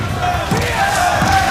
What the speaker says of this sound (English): The crowd erupting for Tony.